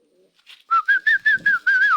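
A pigeon on a loft landing board, heard as a run of six clear cooing whistle-like calls in quick succession, close and fairly loud, with a faint soft rustle partway through.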